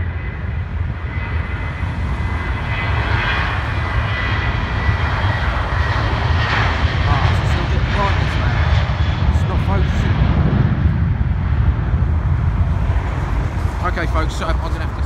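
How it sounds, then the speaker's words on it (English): A Virgin Atlantic Airbus A330 departs Heathrow, its jet engines producing a loud, continuous low roar that holds steady throughout with a broad rushing noise. "We've got an A330 going out with Virgin Atlantic."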